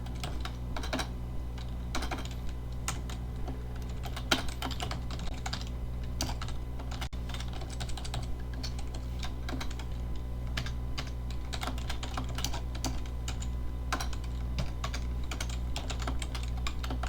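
Code is typed on a computer keyboard in quick, irregular bursts of key clicks and taps, close and clear over a low steady hum, with no talking.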